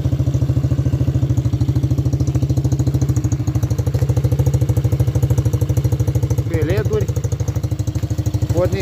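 A small motor vehicle with push-button electric start and a four-speed gearbox runs at a steady idle, its rapid, even putter close and loud throughout, while a voice speaks briefly over it.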